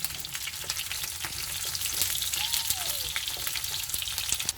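Small bitter gourds fry in a pan with a steady, dense sizzle that holds evenly throughout, with no voices over it.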